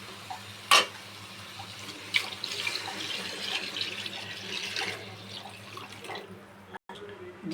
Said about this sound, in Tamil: இப்போ அதுக்கு தகுந்த தண்ணி ஊற்றிக்கலாம்.